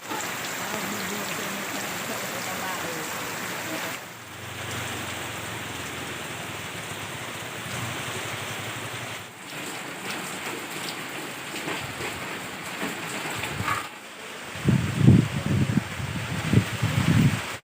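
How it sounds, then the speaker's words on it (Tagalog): Heavy typhoon rain from Typhoon Paeng in Bicol, a steady loud downpour roaring on surfaces with brief dips, and closer splashes and knocks near the end. "Lumalakas na po yung ulan."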